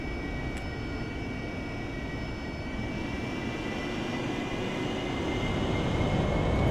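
A steady, loud jet engine roar with a faint high whine from an AV-8B Harrier taxiing along the runway in the DCS flight simulator, holding an even drone that swells slightly toward the end, with no voices.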